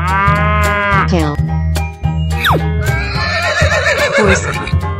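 Cartoon-style horse neigh over bouncy children's music, a loud whinny rising and falling in pitch near the start, followed by a sharp sliding effect and more playful animal sounds over a steady beat.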